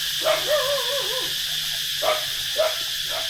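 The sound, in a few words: pack of dogs barking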